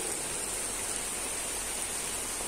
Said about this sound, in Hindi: देखिए कितनी तेज़ बारिश हो रही है बाहर